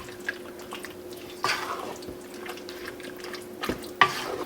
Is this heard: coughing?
no